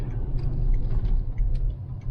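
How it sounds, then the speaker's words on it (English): Traffic passes on a snowy, icy road as a low, steady rumble of vehicles nearby, with faint light ticking and crunching over it. "here comes some traffic"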